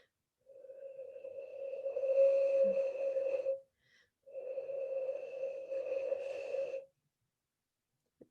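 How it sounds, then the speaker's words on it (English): Two sustained hollow whistling tones from blowing across the mouth of a full bottle, each lasting about three seconds with a short breath gap between, steady and fairly clear with breathy noise on top. "I'm going to blow into the bottle that is full first"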